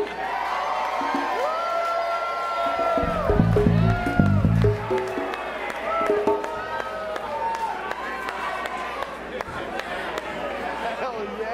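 A concert crowd at The Mystic Theater in Petaluma cheers, whoops and claps for the band, a dense roar of voices and applause that swells early and then settles into lively chatter.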